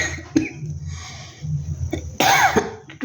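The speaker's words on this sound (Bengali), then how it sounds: "একটু ঠান্ডা লেগেছে, কাশি হচ্ছে" A woman with a cold coughs in a home kitchen while making an egg and semolina evening snack: one short cough early on, then a louder, harsher burst of coughing near the end.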